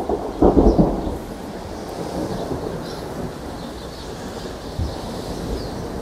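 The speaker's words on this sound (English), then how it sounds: "There is some wild weather going on today, thunder and lightning all over the place" Thunder from a storm rumbles loudly in one close crack and roll, then keeps up a long, low continuous grumble with rain noise underneath.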